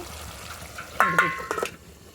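Chicken fries in a pan with oil, giving a soft sizzle and a few sharp clinks and scrapes of stirring near the middle, then fading to quiet.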